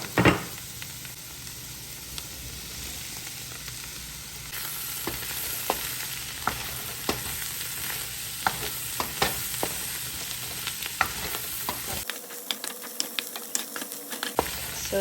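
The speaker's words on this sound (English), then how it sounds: "I'm gonna give this all a good stir." Cauliflower, meats and eggs stirred in a frying pan for a keto breakfast scramble, with steady sizzling and a series of spoon scrapes and taps against the pan, close and alone.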